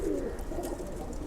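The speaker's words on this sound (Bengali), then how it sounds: "মাশাআল্লাহ কবুতরগুলো।" Caged male pigeons coo in low, throaty, rolling calls close by, a brief soft murmur with no voices over it.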